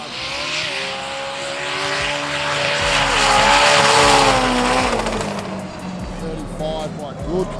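Roll racing cars, Gemini against 35, in a Sydney 2024 nationals race, engines roaring up through the gears and passing close with a rising then fading whine, a commentator talking over them.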